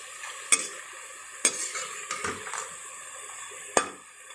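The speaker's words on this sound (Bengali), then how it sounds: "এগুলো আমি লাল লাল করে ভেজে তুলে নেবো" Bengali nimki, a savoury snack, deep-frying in hot oil at home, giving a steady close sizzle broken by a few sharp clinks of a utensil against the pan.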